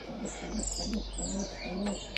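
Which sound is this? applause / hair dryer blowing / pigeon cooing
pigeon cooing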